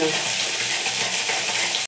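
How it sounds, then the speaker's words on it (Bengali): Potatoes already fried are stirred into a spice paste with turmeric and sugar in a pan, giving a steady loud sizzle with scraping stir strokes throughout, no voices, cutting off abruptly at the end. "ভাজা আলুগুলো দিয়ে আরেকটু নেড়ে নেবো মশলাটাকে।"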